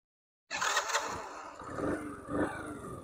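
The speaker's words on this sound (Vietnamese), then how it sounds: "Em nổ máy cho anh em nghe nha," After a moment of silence, a custom 50cc motorbike engine catches and starts, then settles into a rough, throaty idle that rises and falls, heard up close.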